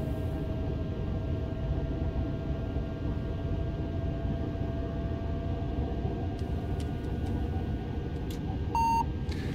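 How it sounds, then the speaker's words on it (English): A crocodile alarm beep sounds inside a TGV Duplex cab: a short, clear electronic tone near the end, over steady low train rumble and running noise. "we get a crocodile alarm"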